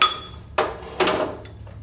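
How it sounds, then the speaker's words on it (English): Metal slide hammer from a MIG stud welding kit set down on a shop cart: a sharp metallic clank followed by two quick, heavier knocks, close and loud with no talk. "I'm able to just throw the slide hammer"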